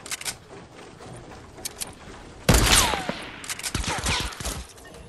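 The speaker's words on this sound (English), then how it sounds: "Oh, he's shooting at me." Enemy gunfire in an online shooter game: a sudden loud burst of rapid shots, then scattered bangs and crackling impacts over low background game noise, with no talk.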